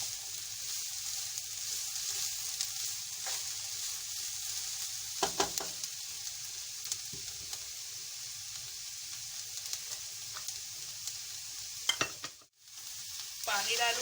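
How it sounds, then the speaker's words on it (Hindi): Vegetables sauté in a hot pan over high heat for soup, a steady close sizzle with a few sharp stirring scrapes and clatters, no voices. "बस तेज आंच पे इसको जरा सा हम सौते करेंगे"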